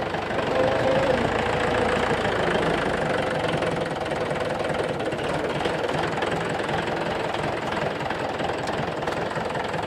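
Tractor loader engine running and working, a steady knocking diesel chug with a rough mid-range drone, loud and close for the whole stretch.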